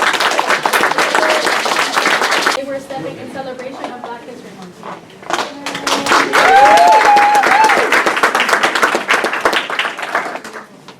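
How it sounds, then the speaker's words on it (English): An audience at a Black cultural celebration applauds an entertainer from Philadelphia with loud, dense clapping. It drops away while a voice speaks, then surges back with cheers and a whistle. "can we please give a big round of applause to this?"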